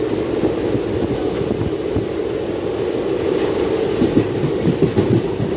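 A passenger train running from Kacheguda to Yelahanka, train 17603, rumbles along the rails with a steady low roar and light rhythmic clatter, heard from on board with no voices.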